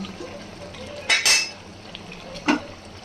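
A spoon scrapes and clanks against a pot of chicken curry with fried potatoes just added, in two or three short bursts over a quiet simmering background.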